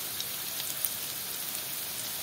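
Stuffed bitter gourd fries in hot oil, giving a fine, dense spatter and crackle like rain on a surface, steady and fairly close.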